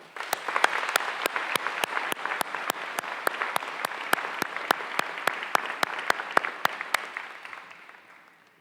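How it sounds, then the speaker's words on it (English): A graduation ceremony audience at a 2021 academy commencement applauds the graduates with sustained, dense clapping that holds steady for about seven seconds and then fades away. "please give it a big round of applause."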